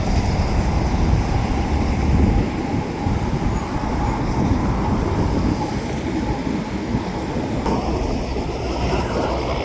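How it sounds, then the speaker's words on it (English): Trains rumble past on the Queensboro Bridge continuously with a heavy, steady roar and faint rhythmic clatter of wheels, close and loud throughout. "Trying to include the trains and the Skytrain all together."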